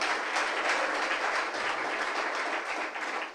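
A church congregation at JTG Manila Church claps together in dense, sustained applause that fills the room and fades slightly at the end.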